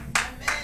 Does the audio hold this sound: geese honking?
no